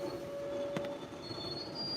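A Class 156 diesel train pulls out of an East Midlands station, its wheels squealing in thin steady tones over rumbling rail noise, with one sharp clack midway and no voices.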